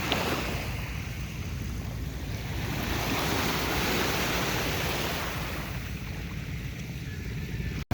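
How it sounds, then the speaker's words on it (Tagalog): Steady rushing wash of surf and wind with a low rumble that swells toward the middle, as a small fishing boat carrying tiny shrimp draws closer over the water. "yung parating na isang bangka alamang din niya"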